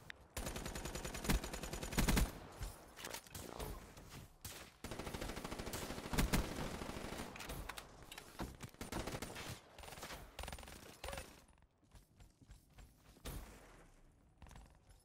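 Rapid automatic gunfire in the video game Call of Duty Black Ops 3 comes as dense bursts of shots with brief gaps, loud and close, and thins into scattered shots near the end.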